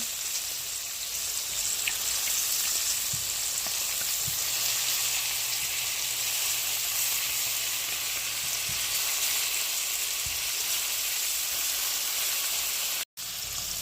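Freshly caught lake fish, just pulled from an ice-fishing trip, fry in hot oil with a steady, close hiss and crackle, with occasional faint clinks from handling and no talking.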